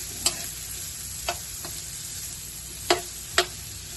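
Sardines and bitter melon leaves sauté in a pan with a steady low sizzle, broken by four sharp utensil clicks against the pan.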